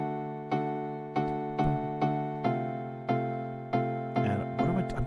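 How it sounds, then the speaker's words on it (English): Harp and flute music in a lilting hemiola rhythm that alternates 6/8 and 3/4 time, with steady plucked notes pulsing under sustained tones, moderately quiet and with no talking. "This actually started from the harp part, and I added in the flute parts afterwards."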